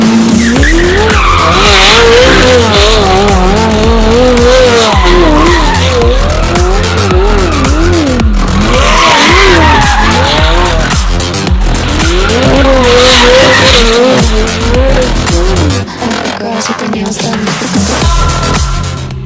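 A McLaren 720S and a widebody LBWK GT-R doing donuts: loud, continuous tire squeal and skidding with engine roar that rises and falls in sweeping waves, close and alone throughout.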